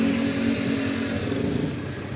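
A car engine hums as the vehicle squeezes slowly along a narrow road, a close, steady mid-pitched drone that eases slightly toward the end.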